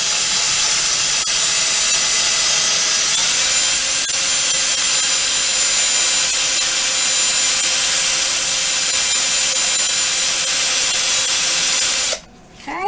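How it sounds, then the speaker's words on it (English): A rechargeable drill bores a hole through a wooden mixing stick used for acrylic pouring, with a loud, steady high-pitched whine and grinding that holds for about twelve seconds, then stops abruptly. "So I'm going to drill through the next hole."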